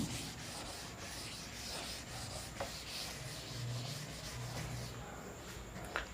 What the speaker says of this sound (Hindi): मैं यहाँ से रब कर रहा हूँ।